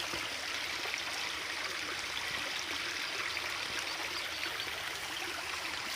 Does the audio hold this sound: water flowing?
yes